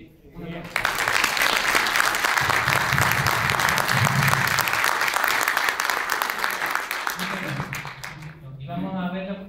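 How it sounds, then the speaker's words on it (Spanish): A large audience bursts into sustained applause for award winners, dense clapping that holds for several seconds before tapering off, with a voice speaking briefly over the last moments. "Así que, un aplauso."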